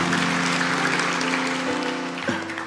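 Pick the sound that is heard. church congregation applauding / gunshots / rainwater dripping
church congregation applauding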